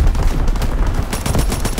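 Rapid submachine gun fire in a WWII shooter video game, a loud, dense, continuous rattle of shots close up with no pauses.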